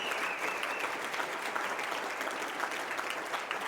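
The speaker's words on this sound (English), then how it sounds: "please give a warm round of applause for all of them" Steady applause from an audience at a talk, faint and distant, with dense clapping holding even throughout.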